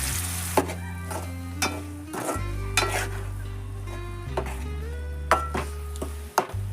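Ground spice paste for Kerala-style beef roast frying in a pan while being stirred, with a steady low sizzle broken by repeated scrapes and clinks of the spoon against the pan.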